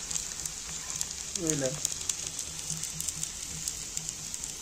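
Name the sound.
onion thalipeeth roasting in oil on a pan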